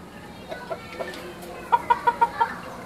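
Chickens cluck in a quick run of five sharp, evenly spaced calls near the end, after a few fainter scattered clucks over a quiet background.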